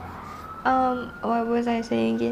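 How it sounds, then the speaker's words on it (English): An ambulance siren passes outside, its wailing harmonic tones rising and falling in a few loud repeated sweeps while someone talks indoors. "Ambulance gitu."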